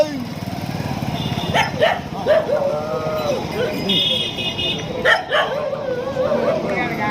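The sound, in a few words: dog barking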